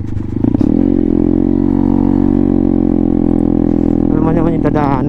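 An enduro trail motorcycle's engine drones loudly and steadily close by, with a rough clattery start and a voice speaking near the end.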